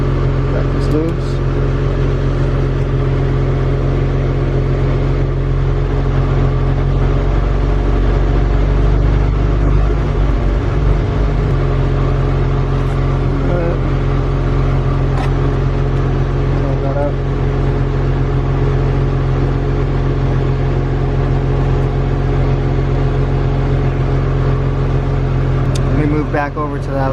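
The engine of an Infiniti G35 coupe idles steadily after a restart during a brake fluid change, a loud, close, constant low hum with a brief rise in the middle; someone talks over it.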